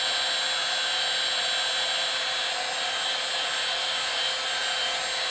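A battery-powered heat gun blows hot air in a continuous, even, close whooshing hiss with a faint motor whine, with no break and no talking.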